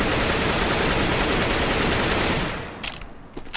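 Rapid automatic gunfire spray in the video game CSGO, a dense continuous burst lasting over two seconds, loud and close, then cutting off into a few scattered clicks and quieter sounds.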